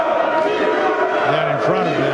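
An American crowd at a Mosconi Cup pool match fills the air with a loud, steady roar of voices, and one or two louder shouting voices rise above it toward the end.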